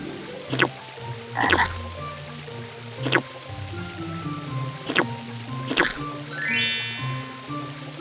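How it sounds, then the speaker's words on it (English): A cartoon frog gives a series of loud, evenly spaced croaks, about six over several seconds, with a soft sparkling chime near the end and a light drip-like background. "Listen to him ribbit."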